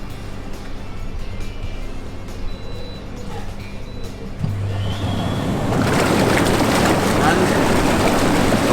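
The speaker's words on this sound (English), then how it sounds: "getting in the jacuzzi and hot tub spa, whatever you want to call it" Hot tub spa jets at 40 degrees switch on partway through, a loud broadband rush of churning, bubbling water that swells and holds steady after a quieter, humming opening.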